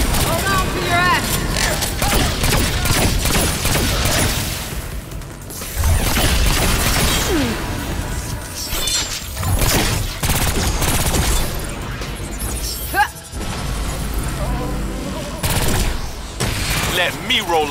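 Automated turrets firing in the Agents of Mayhem video game, dense sustained bursts of gunfire with crashes and mechanical clatter, loud and continuous with short lulls, mixed with game voices.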